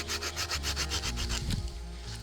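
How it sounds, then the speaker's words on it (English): A piece of wood for a bow drill set is cut outdoors, producing a rhythmic rasping saw stroke repeated about a dozen times, close and fairly loud, with no voices. "I'm gonna go ahead and cut a piece that's a little bit big and then we'll cut it down to size later"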